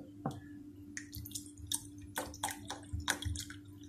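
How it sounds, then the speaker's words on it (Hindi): Water pours and splashes into a pan of tamarind chutney in short uneven bursts with small drips, over a steady low hum in a quiet room. "थोड़ा सा पानी डाल रही हूँ"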